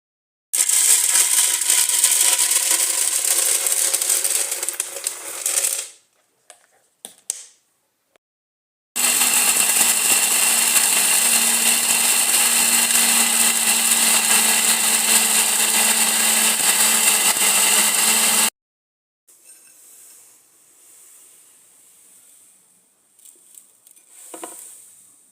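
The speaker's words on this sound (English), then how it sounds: "put it in the blender to give us a smaller size of the corn." A blender grinds dried corn with a loud, harsh whirring roar in two long bursts separated by a brief pause, then quieter rattling and shuffling.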